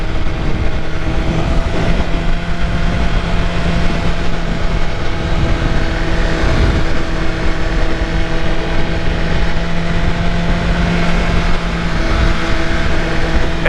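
A 2022 BMW S1000RR M Edition sport motorcycle riding along, its engine a loud, steady drone with constant wind rush throughout.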